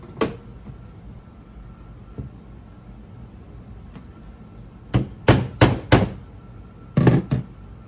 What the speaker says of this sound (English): Hammer sure helps.